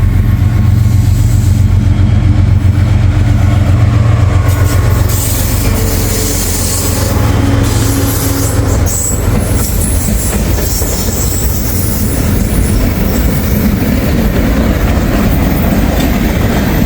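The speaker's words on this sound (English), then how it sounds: "There it goes, taking the siding here." A freight train with locomotives pulls into a siding at trackside on a hot, humid day, its loud rumble steady throughout, wheels clacking over rail joints and squealing faintly as the cars roll close by.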